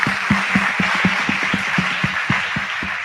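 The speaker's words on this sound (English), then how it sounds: "Please clap for them." A school Model UN audience claps together for participating schools and colleges, a steady rhythmic beat of unison claps roughly every quarter second over a broad wash of scattered applause, with no talking.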